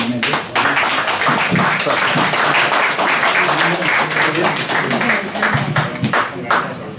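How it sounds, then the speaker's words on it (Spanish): Sustained, loud applause fills the hall as an audience welcomes a choir and its director at a local community concert, dense clapping continuing throughout. "recibimos a los coreautas junto a su director Maximiliano Vieira con un fuerte aplauso."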